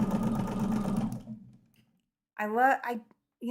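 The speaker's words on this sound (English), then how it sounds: "Ellen, chain pieces in sections. That's kind of sometimes the way you have to do it." A sewing machine chain-pieces quilt sections, running in a steady rapid burst for about a second before stopping. A person then talks nearby.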